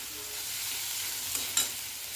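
Roasted fresh pigeon pea ingredients with tomato get stirred in a pan off the gas, a soft, steady scraping and faint sizzle with a couple of small clinks of the spoon.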